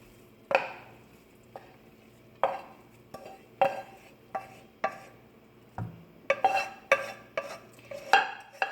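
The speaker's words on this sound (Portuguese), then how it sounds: "Essa panela é maior, eu vou transferir a quinoa para cá." A spoon clinks and scrapes against a pot over and over at an uneven pace as quinoa is scooped in. The clatter is close and fairly crisp.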